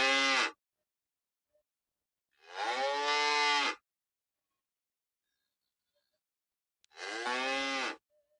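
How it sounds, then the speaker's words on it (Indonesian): A cow moos three times, each call long and drawn out, with a short low opening followed by two fuller calls. Silent gaps separate the calls. "Nah, itu tadi suara hewan sapi."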